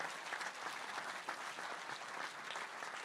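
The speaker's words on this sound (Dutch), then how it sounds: "ik wil ook voor de band even een applaus" An audience at a premiere gives the band steady, dense applause, many hands clapping at once, heard from a distance at a fairly low level with no talking over it.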